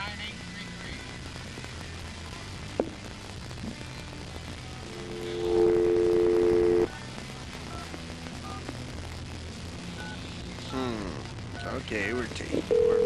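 Telephone dialing tones sound as a steady beeping tone for over a second, then a short tone near the end, under ongoing background noise and voices talking.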